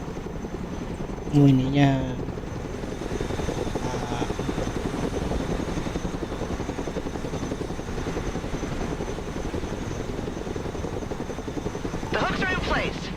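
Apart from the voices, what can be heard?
Chinook helicopter in video game Broken Arrow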